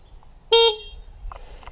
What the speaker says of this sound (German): mach mal Hupe.